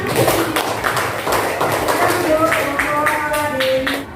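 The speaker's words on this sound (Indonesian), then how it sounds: "Ya, tepuk tangan." Schoolchildren in a classroom clap their hands in a loose, uneven burst of taps, fairly close, with some voices and murmuring mixed in beneath the claps.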